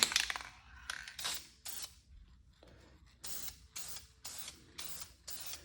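Repeated short hissing bursts of an aerosol can spraying clear coat in a garage, about eight sprays of roughly half a second each, separated by brief pauses, close by.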